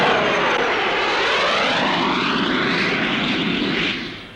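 A Provost trainer aircraft flies a slow roll at a 1950s Farnborough air show, its engine loud and steady overhead with a sweeping, shifting drone that fades slightly at the end.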